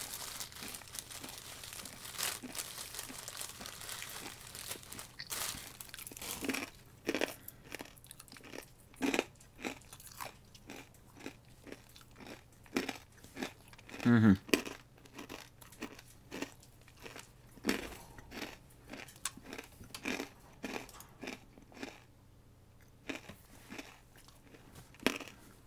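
Samurai peanuts bought from a bulk bin, crunched and chewed close up, with repeated sharp bites and steady crunching throughout and no talking.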